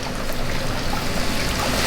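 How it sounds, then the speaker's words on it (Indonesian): A short, unbroken stream of water splashes into the soil of a newly potted, drooping houseplant in a pot-in-pot arrangement, a close, steady gurgling pour with no pauses. "kita siram aja dulu."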